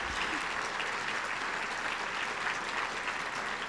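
Steady, dense applause from a large conference audience at a plenary session honouring standing fellowship winners, continuous and even throughout.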